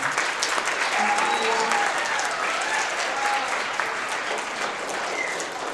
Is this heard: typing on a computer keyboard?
no